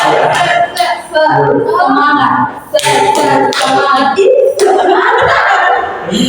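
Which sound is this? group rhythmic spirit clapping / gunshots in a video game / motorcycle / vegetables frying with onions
group rhythmic spirit clapping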